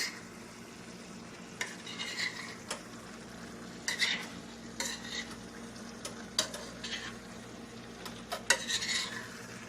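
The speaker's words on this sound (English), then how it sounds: "Mix this up. And I'm going to mix it in." A vegan meat alternative mixture is stirred in a pan over a soft sizzle, with a utensil scraping and clinking against the pan in irregular strokes, close and fairly quiet, with no talking.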